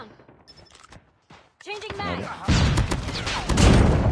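Man-O-War rifle fire in COD Mobile, a dense burst of gunfire and impact thuds building loud after a quieter start, with game effects mixed in.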